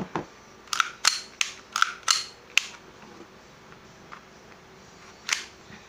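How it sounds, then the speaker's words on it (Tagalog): An airsoft pistol is test-fired in a quick run of sharp, snappy pops, about seven shots close together, then a final shot after a pause, all near and clear over a quiet background. "Okay, so test fire natin. Testing natin."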